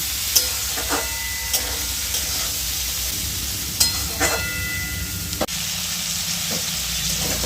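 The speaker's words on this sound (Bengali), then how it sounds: "কেটে রাখা ঝিঙেগুলো দিয়ে দেবো দিয়ে আমি এবারে নেড়ে ছেড়ে একটু ভেজে নেব" Ridge gourd sizzles steadily in hot oil, with occasional scraping clicks of a spatula stirring the pan.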